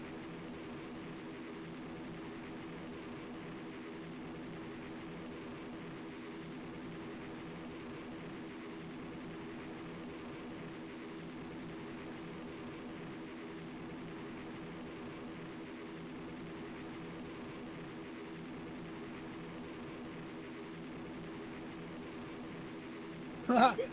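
Aircraft engine in the FlightGear flight simulator, a steady, faint, even drone that holds without change for a long stretch, with a brief bump only at the very end.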